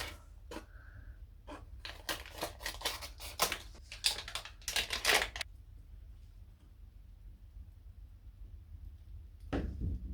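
Scissors snipping through packaging for modeling clay, a burst of crisp irregular snips and rustles over several seconds, then quiet, with one more short rustle near the end.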